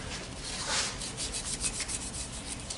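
A Scotch-Brite pad rubbing off faint marks from a transmission thrust washer makes a steady, close abrasive scrubbing that continues without a break for the whole stretch, with no speech.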